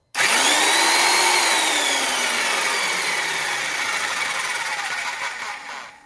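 A vintage Rockwell/Porter-Cable orbital Tiger Saw makes a straight cut. It starts abruptly and runs loud and close, with a dropping, then settling motor whine over a harsh, steady buzzing rasp that fades near the end.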